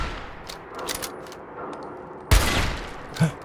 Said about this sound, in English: The bullets were like ricocheting or something.